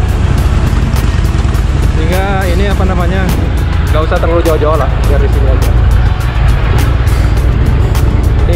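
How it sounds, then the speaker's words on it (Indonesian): A Harley-Davidson motorcycle engine warms up near Kuta Beach on a drizzly afternoon in heavy traffic. Its steady low rumble runs throughout beneath continuous talking. "sambil manasin Harley Davidsonnya"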